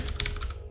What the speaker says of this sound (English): We open a new terminal and we type py